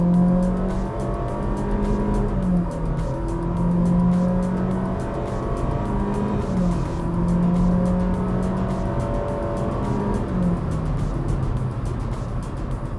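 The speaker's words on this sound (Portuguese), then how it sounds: "mesmo com o carro em movimento, ele retoma muito bem" A turbocharged or naturally aspirated sedan, a Hyundai HB20S Platinum Plus or Honda City Touring, revs and pulls strongly as it speeds up while already moving, the motor's drone rising and shifting through gears, loud and close with no talking.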